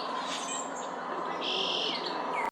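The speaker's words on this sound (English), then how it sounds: "You can hear birds singing in the background" Birdsong chirps and whistles in the background near Lake Michigan in May, over a steady outdoor hiss, continuous and moderately faint throughout.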